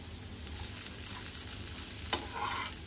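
Okra fries on a tawa with a soft continuous sizzle, and a clear scrape and clatter as the pieces are flipped, followed by continued frying.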